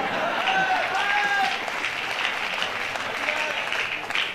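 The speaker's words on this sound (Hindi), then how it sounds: "एक बार जोरदार तालियां बजा के हमारे गोपाल जी का स्वागत करें" An audience at a Malwa-style Hindi poetry recital applauds loudly and steadily, a dense close wash of clapping that carries on for a few seconds, with voices mixed in.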